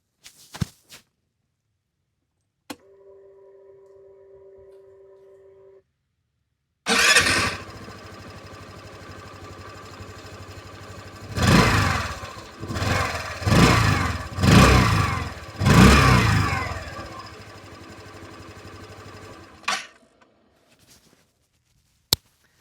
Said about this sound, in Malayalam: എന്തായാലും നമുക്ക് ഈ വാഹനത്തിൻ്റെ എക്സോസ് സൗണ്ട് നോക്കാം.